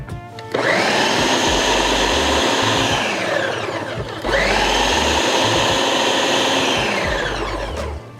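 A blender loudly purees a thick jerk chicken marinade in two sustained whirring bursts, separated by a brief pause, with no voices.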